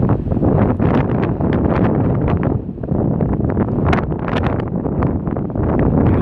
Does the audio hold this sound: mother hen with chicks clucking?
no